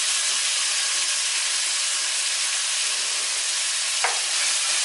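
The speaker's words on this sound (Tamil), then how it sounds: "வெங்காயமும் பச்சை மிளகாவும் நல்லா கோல்டன் கலர் வர அளவுக்கு இதை வதக்கணும்" Onions and green chillies sauté in a hot pan for a mushroom biryani, giving a steady, close sizzling hiss throughout, with a brief stirring scrape near the end.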